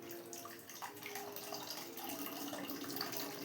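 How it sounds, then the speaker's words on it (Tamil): Tamarind water is poured into dissolved tomatoes, making a continuous soft splashing and trickling stream that stays fairly faint and even throughout, with no speech. "இந்த புளி தண்ணியை வந்து இந்த தக்காளியோட நம்ம ஊற்றிக்கலாங்க."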